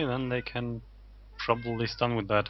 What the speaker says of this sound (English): sorry for the cat noises.